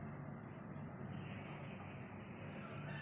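Inside a moving train bound for Puri, a faint, steady low rumble with a soft hum runs unbroken and even throughout, with no voices.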